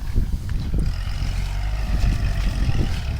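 A Kubota L5018 farm tractor's diesel engine runs steadily nearby, a continuous low rumble with a few faint clanks and knocks over it, no speech.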